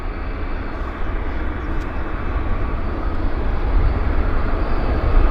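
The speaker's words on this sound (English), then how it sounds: "short stubby Boeing coming out" A short United Boeing jet airliner departs Vancouver YVR airport, its engines a broad, steady roar that swells gradually louder, heard from some distance.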